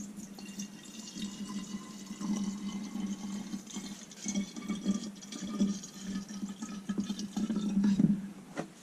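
91% rubbing alcohol being poured into the fuel reservoir of an MSR Whisperlite stove, a faint continuous trickle with small splashy gurgles that builds slightly toward the end, close by and quiet, with no voices.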